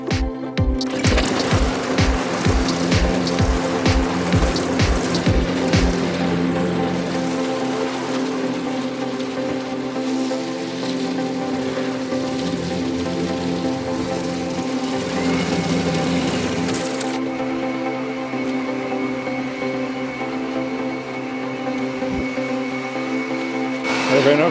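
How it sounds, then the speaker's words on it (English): A lawn mower cuts grass in a backyard, its engine giving a loud, steady droning whine; rhythmic thumps mark the first few seconds, and the engine note drops partway through. "I'm cutting the grass."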